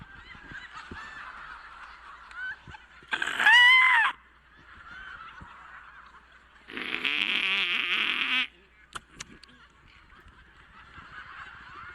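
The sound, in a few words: man imitating bird noises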